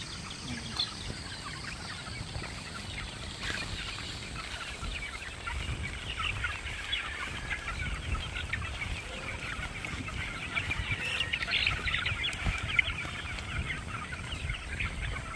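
A crowd of young chicks in a cage on a poultry breeding farm keeps up a dense, steady chorus of peeping and clucking, near and continuous, with faint background noise and no clear talk.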